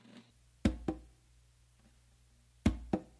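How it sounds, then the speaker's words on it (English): Finger taps on a conga drum sound as two pairs of sharp, close hits, one pair early and one near the end, with quiet gaps between them. "It's gonna do like a finger tap."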